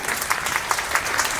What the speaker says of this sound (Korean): 네, 박수로 맞이해 주시기 바랍니다.